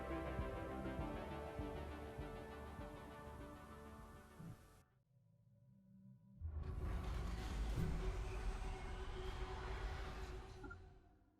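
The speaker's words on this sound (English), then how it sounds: "That was the sound of the Imari completing another gateway." A Stellaris gateway completion sound: a broad, rushing electronic swell bursts in after a brief lull, a dense whooshing roar that holds steady, over a layered musical drone.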